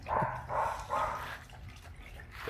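A dog barks a few times in quick succession, moderately close, against a dull background rumble with no speech.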